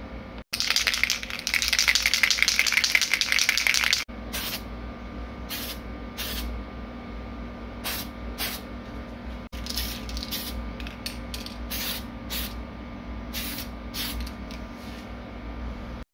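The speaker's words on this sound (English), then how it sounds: "And then I'm gonna spray this primer on, which is good for plastic and metal." Tamiya primer sprayed from an aerosol can onto a Colt Python revolver, one loud steady hiss lasting about three seconds, followed by a series of short, quieter spray bursts.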